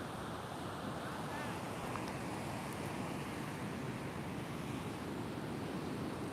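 Ocean surf at Cannon Beach, Oregon washes in as a continuous, steady roar of breaking waves with some wind rumble, no distinct individual breakers.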